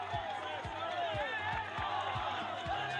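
A crowd at the Tour de France cheers and shouts with excitement, a steady roar of voices and whoops, while a regular thumping beat pulses underneath.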